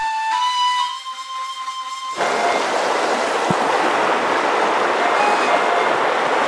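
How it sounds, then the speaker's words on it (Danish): River water rushes steadily through a quiet valley in Cappadocia's Ihlara Valley, a broad, even wash of flowing water that takes over after a brief stretch of tonal background sound. "Vandet der bare bruser stille og roligt hernede igennem dalen."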